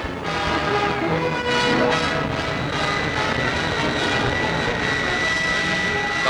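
A jetliner roars past overhead above Idlewild Airport, a loud, steady, broadband engine rush with a whining tone that holds throughout and has no talking over it.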